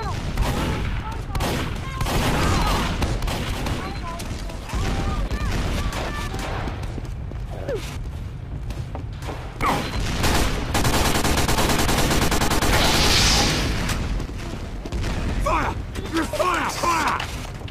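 Rapid gunfire and mechanical weapon sounds from a Team Fortress 2 match on Xbox 360 fill the whole stretch, loud and dense, with a voice speaking over parts of it.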